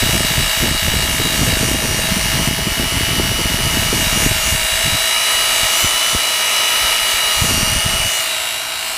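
A Work Sharp powered sander grinds the edge of a hatchet, giving a steady loud whine broken into short passes with faint low knocks and scrapes, running the whole time with no talking.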